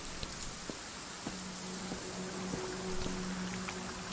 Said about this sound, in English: And it's just normal rain. It's not storming out yet.